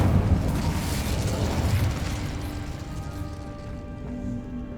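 Incendio fire spell cast in Hogwarts Legacy, a loud whooshing fiery burst at the start that rolls into crackling flame and slowly fades over a few seconds.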